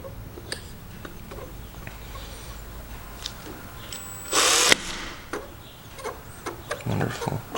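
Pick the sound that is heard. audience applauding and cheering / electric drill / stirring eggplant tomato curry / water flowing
electric drill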